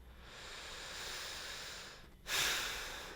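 Slow, airy breathing during a gentle yoga head-to-knee pose, a long soft inhale or hiss followed by a louder, fuller exhale, close to the microphone.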